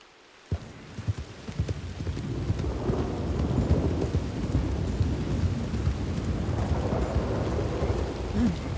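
Rain and thunder in the video game Red Dead Redemption 2, a steady wash of falling rain with low rumbling thunder building after a sharp onset, and horse hoof clip-clop mixed in.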